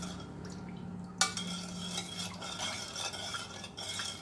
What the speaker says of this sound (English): Stir them until the sugar and the jelly powder is dissolved.